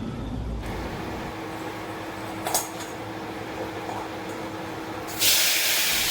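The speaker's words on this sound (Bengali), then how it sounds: "আর এই দেখো মাছ ভাজছি" Katla fish frying in a pan in a home kitchen, giving a steady low sizzle throughout with a few light clinks and a louder hissing surge near the end.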